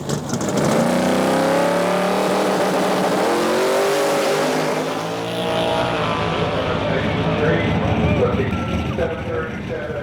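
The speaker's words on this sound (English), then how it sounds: "Now this car right here is gonna lay down some speed." A drag racing car at Gimli Dragways accelerates down the strip, a loud engine roar rising and shifting in pitch over about ten seconds, sweeping past close by then continuing at a distance, with a voice partly over it.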